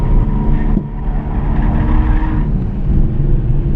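A Nissan Skyline drifting with clutch kicks, its engine roaring loud and close with steady revving and tyre skid noise running throughout.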